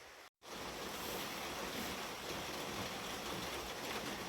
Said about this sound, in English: Listen to that wind and rain.